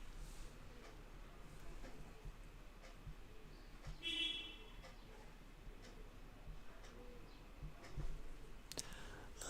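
A computer mouse clicks a button on a web page again and again, giving light, irregular ticks that are close but quiet over a faint hum, with occasional soft background noise.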